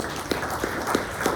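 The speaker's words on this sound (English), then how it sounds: "you could give them a round of applause" Applause from a seated audience at a local candidates forum breakfast, a continuous murmur of clapping with a few louder, regularly spaced claps standing out.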